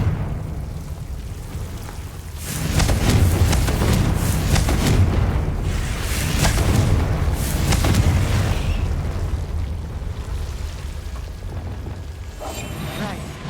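Confringo fire spell exploding in the Hogwarts Legacy video game, a loud, rumbling blast that surges, swells again and slowly fades into crackling debris.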